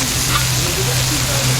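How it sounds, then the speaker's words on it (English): Meat and onions browning on a flat griddle while cheesesteaks and smashburgers are cooked, giving a steady, close, even sizzle that goes on throughout with no break. "The onions get nice and brown. The meat's cooking up good."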